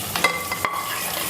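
Green chilies tumble into a simmering thirandi (stingray) fish curry and are stirred through it, giving a short scrape and stir over a soft sizzle, with two brief clatters close by and no voices.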